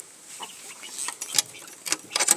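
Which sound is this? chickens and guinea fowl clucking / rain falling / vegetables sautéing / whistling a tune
chickens and guinea fowl clucking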